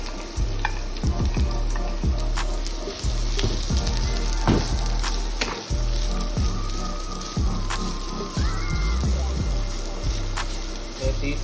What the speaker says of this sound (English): So to our hot oil, we're going to add our cut of vegetables. We're going to saute these really good.